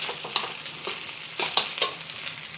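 Rice being stir-fried in a pan and moved around so the grains separate and heat through, with soft repeated scraping and stirring strokes over a steady faint sizzle, close and fairly quiet, no voices.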